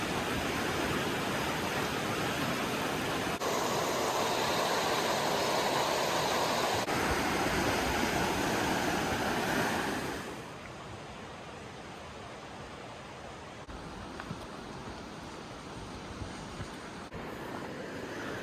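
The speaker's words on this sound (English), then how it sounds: "I believe this is the Athabasca River" The Athabasca River rushes through a rocky canyon, a broad, steady roar of churning water heard from nearby, loud at first and then softening to a constant wash.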